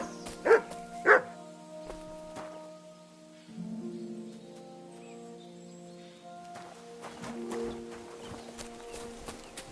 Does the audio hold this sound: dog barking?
yes